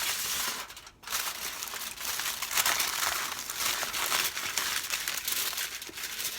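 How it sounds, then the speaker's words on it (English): Aluminium foil crinkles and crumples steadily over a lasagna dish, a close, continuous rustling with one brief pause near the start, no voices. "I'm gonna put some foil over this"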